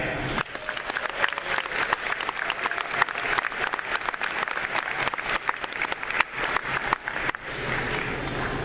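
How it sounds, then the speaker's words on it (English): Sustained audience applause at a Comic-Con 2013 film panel for RoboCop, a large hall crowd clapping continuously with scattered cheers and occasional louder claps throughout. "round of applause for the lovely and talented Abby Cornish."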